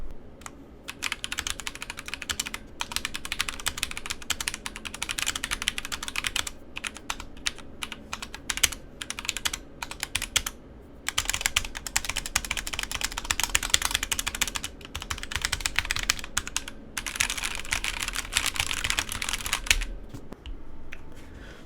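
Steady typing on a KBDfans KBD67 Lite R2 mechanical keyboard with lubed switches and greased stabilizers, dense runs of clacky keystrokes with brief pauses between bursts, close and clear with no talking.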